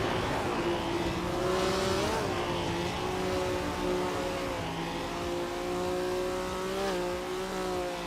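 A classic 1967 Ferrari 312 race car engine in a racing video game, holding a steady high-pitched drone with slight rises and dips in revs, loud and continuous throughout.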